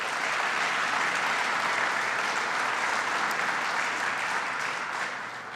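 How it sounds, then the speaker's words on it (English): A large audience at a government legislation announcement gives sustained, dense applause that holds steady at moderate loudness for several seconds and then tapers slightly at the end. "let's give them a round of applause"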